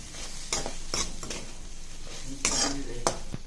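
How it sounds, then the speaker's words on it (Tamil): Soya chunks frying in a pan after a squeeze of lemon, stirred with a spoon: repeated metallic scrapes and clinks against the pan over a continuous close sizzle, no talking. "லெமனை புழிஞ்சிட்டு நல்லா கலக்கிடுங்க ஃப்ரெண்ட்ஸ்"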